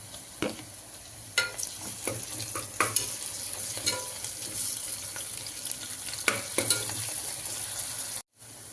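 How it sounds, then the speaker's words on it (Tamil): Ginger garlic paste sautéing in a pan for tomato rice, a close steady sizzle with repeated scraping stirs of a spoon, ending in a short sharp cutoff. "வணக்கிட்டு இருக்கிறேன் இஞ்சி பூண்டு பேஸ்ட்டு"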